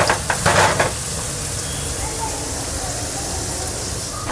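Chopped onion frying in a pan until golden for chicken masala, a steady hissing sizzle after a burst of louder stirring and scraping at the start.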